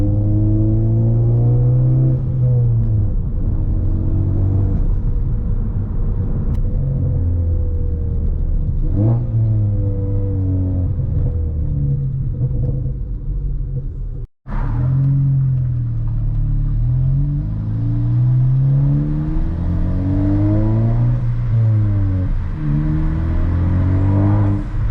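A Ford Focus ST fitted with a big turbo drives steadily, its engine droning and rising through repeated revs and shifts with a whirring turbo note. Close and continuous for the whole stretch, with a brief dropout midway and no talk.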